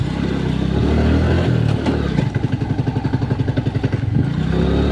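A close motorcycle engine idles roughly, then settles into a fast, even chugging putter, loud and unaccompanied by speech.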